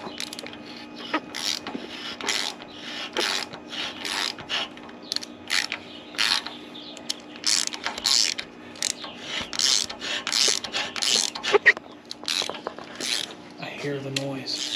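A hand tap cuts threads into a Chevy 454 big block engine, giving repeated close metallic ratcheting and grinding crunches in uneven bursts, with a few quiet voices nearby.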